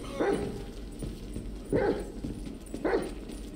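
Dog barking in a GTA 5 video game, three distinct loud barks spaced about a second and a half apart over a steady low background.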